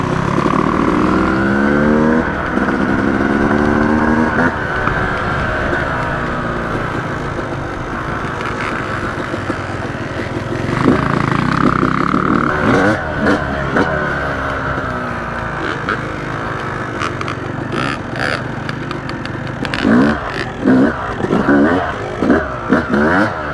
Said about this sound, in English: my YZ250, taking for a nice long ride today